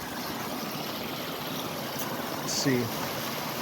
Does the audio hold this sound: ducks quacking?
no